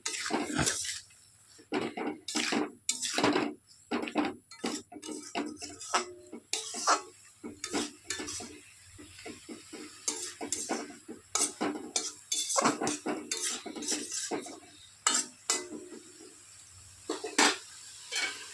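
A spoon stirs bottle gourd curry with turmeric in a metal kadai, scraping and clinking loudly in repeated close bursts, with a lid clattering as the pan is covered.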